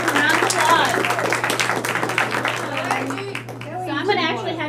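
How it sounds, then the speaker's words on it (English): A small group at a team meeting claps in a dense burst of applause that tapers off after a few seconds as a voice takes over, with a steady low electrical hum underneath. "Give a round of applause."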